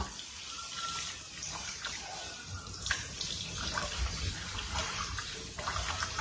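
Lemongrass is rinsed under running water for a homestyle Lao grilled-sausage dish, giving a steady, moderately loud splashing flow with faint drips and no talking.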